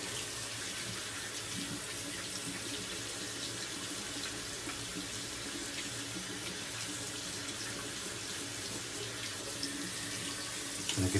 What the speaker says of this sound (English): Just running it under some water